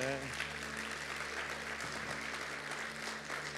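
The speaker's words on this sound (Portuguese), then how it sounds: "Não sei porque esse aplauso está tão fraquinho." A church congregation claps in a thin, steady patter of applause lasting a few seconds, with a low musical hum underneath.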